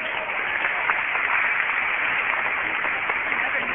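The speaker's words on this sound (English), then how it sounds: "Let's do another big round of applause for Matt." A crowd applauding steadily, a dense wash of clapping that stays even and fairly loud throughout, muffled as if heard through a low-quality recording.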